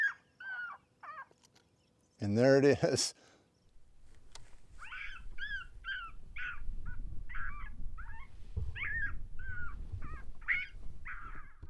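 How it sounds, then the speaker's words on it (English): Domestic puppy whimpers and yips played from a predator call for coyotes: short, high, repeated cries in a broken sequence, one loud burst early, then continuing over a steady rumbling background outdoors. "puppy sound."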